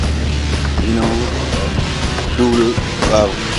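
Nissan Patrol 4x4 crawling up a steep 50-degree off-road climb, its engine a steady low rumble close by, with voices talking over it.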